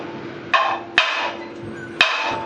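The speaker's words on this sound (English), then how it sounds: "we can just hit that with a hammer and move the steel where we need to" A hammer strikes tack-welded steel to shift it into position, three sharp metallic blows spaced about half a second to a second apart, each ringing briefly, close and loud over a faint steady hum.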